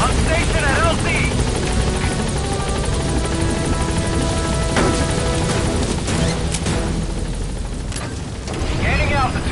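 In a video game, a helicopter arrives at a landing zone, its rotor thudding loud and close with a dense mechanical roar, broken by scattered crashes and clanks, while radio chatter plays beneath.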